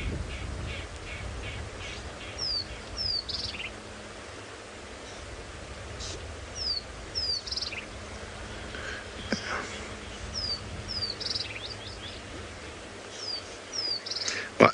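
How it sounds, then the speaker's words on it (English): A bird repeats short, high zit-zit calls in paired bursts every few seconds at dawn in the Djuma bush, heard at a distance over a low steady rumble. "you hear that zit, zit, zit, is a bird we actually quite commonly see in Djuma"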